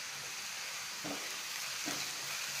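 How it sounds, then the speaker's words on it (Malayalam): Large onions sautéing in a pan over a medium flame, a soft even sizzle with two brief stirring scrapes, quiet and close with no talk. "ഇനി നമുക്ക് നന്നായിട്ടൊന്ന് വഴറ്റിയെടുക്കാം"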